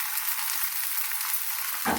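Steady, bright sizzling of onions and curry leaves frying in hot oil, close up and continuous, with a brief clunk right at the end.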